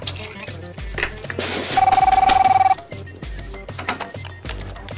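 A telephone bell rings once in a short, loud buzzing trill of about a second amid comedy-show background music.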